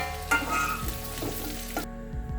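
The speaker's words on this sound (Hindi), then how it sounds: "भिंडी को हम मीडियम फ्लेम पे ही भूनेंगे।" Okra frying in oil in a pan over a medium flame gives a steady, close sizzle with occasional stirring scrapes, and no voices.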